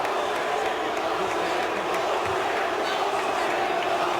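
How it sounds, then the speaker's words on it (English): Dense, steady roar of a large 1995 UFC arena crowd booing and jeering during a fight, continuous and loud throughout with no break. "And the crowd does not like it at all"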